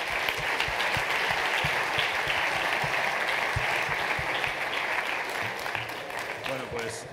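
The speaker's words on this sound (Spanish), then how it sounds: "un aplauso para vosotros también" Audience applause at a university event on real entrepreneurship cases, a dense, sustained clapping from a room full of people, close and loud throughout and tapering slightly at the end.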